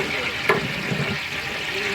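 Ground cumin paste dropped into beef curry frying in a large pot for a wedding feast, giving a soft wet sizzle with a sharp splat as it hits, under faint background noise.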